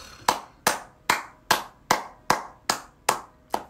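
Nine sharp, evenly spaced hand claps ring out close to the mic, each with a short decaying tail, steady rhythm over about three and a half seconds.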